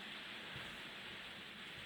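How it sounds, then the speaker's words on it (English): Heavy rain falls steadily outdoors, a dense, continuous hiss with no breaks, moderately quiet and without talk. "the rain is relentless"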